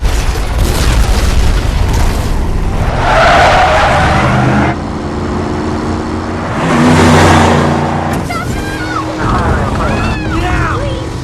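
Vehicles skid and roar through a film car chase in which a truck flees and a pursuer gives chase, with loud engine surges, tire noise and heavy booms, alongside a narrator talking and film dialogue.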